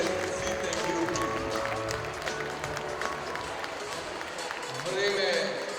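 Audience applause at a kindergarten's end-of-year show, a steady wash of clapping that runs the whole time under a voice talking over a loudspeaker and swells slightly near the end.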